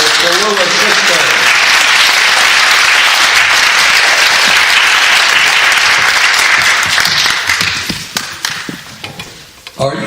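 An audience gives sustained, loud applause for the Tallulah sisters in a radio show, a dense clapping that holds for several seconds before thinning out and dying away.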